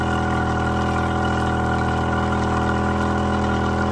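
An old outboard boat motor idling while it warms up, a loud, steady mechanical drone with an even hum and no change in pace throughout.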